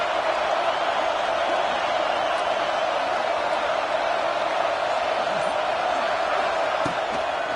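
Packed football stadium crowd at a Michigan versus Ohio State game roaring in a steady, sustained wall of cheering that fills the whole stretch evenly, with no single voice standing out.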